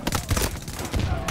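Dense, continuous automatic gunfire in the video game Battlefield 2042 rattles in a brief, loud burst during a LAN match.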